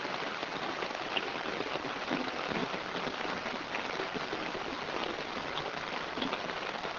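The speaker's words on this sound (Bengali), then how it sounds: "প্রচুর পরিমাণে বৃষ্টি হচ্ছে, সেই চিত্রটা আপনাদের দেখানোর চেষ্টা করি।" Heavy monsoon rain pours down steadily during a storm, a dense, even hiss with no breaks, heard moderately loud and without talk.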